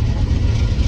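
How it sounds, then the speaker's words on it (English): Motorbike engine running steadily after a carburetor swap, heard from riding up close as a loud, continuous low rumble with no talk over it. "Motor sounds good."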